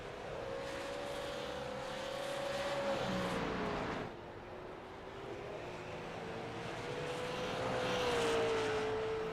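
Race cars on the final lap of a heat race drone past in the distance, a sustained engine whine rising and falling as they round the track, fairly faint under open-air ambience with no talk.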